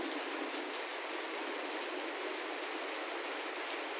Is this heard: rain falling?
yes